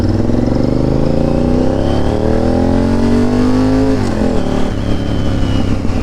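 A Honda VTR 1000cc motorcycle engine revs loudly and close, its pitch rising steadily for about four seconds before dropping back to a rough, throbbing idle.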